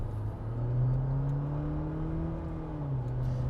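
GWM Cannon Alpha PHEV ute accelerating hard while towing a full load, a steady powertrain hum climbing in pitch as it pulls, close and continuous with no talking.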